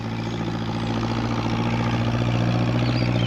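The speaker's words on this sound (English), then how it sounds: "What with the noise of the tractor, Peter Fogg didn't hear Pat's call." A steady engine idles close by, a low droning rumble with a constant pitch that runs unbroken throughout.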